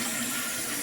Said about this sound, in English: look at that stream of water